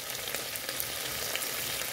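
Shrimp frying in hot oil, a steady crackling sizzle with small popping bursts, close and continuous.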